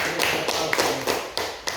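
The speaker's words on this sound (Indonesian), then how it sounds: "Ya, tepuk tangan untuk Adik." A classroom group claps for a student in a short, rhythmic volley of about six sharp, even beats, close and fairly loud.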